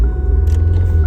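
A 2004–2009 Kia Spectra with the clutch pedal pressed gives a steady low engine rumble right after the key is turned. The tone is loud and continuous, with a faint click partway through.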